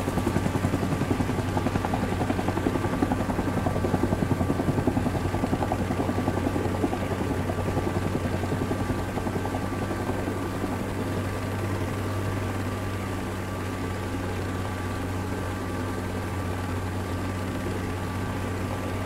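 A video-game helicopter's rotor thumps and engine drone fill the whole stretch steadily, loud and close, easing slightly in level halfway through, in Rising Storm 2: Vietnam.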